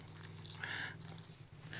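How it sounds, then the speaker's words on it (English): Water poured gently onto planted pineapple tops, a faint soft trickle and splash over a steady low hum, quiet and close. "Now I'll just give those a little bit of water,"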